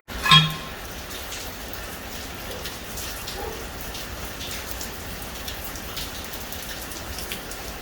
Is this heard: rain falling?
yes